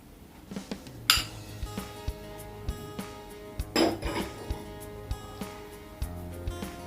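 Cucumber and cabbage tossed together in a bowl, heard as a steady series of close clinks and taps of a utensil against the dish, irregular and moderately loud, with no voices.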